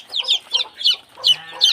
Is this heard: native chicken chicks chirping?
yes